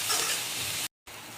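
Ginger and onion frying in a hot pan while being stirred, giving a steady, close, dense sizzle that drops out briefly for a moment before resuming.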